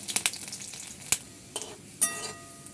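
Chopped garlic hitting hot mustard oil in a wok gives a few bright, crackling spits and pops over a low, uneven sizzle, with sharp bursts near the start, middle and end.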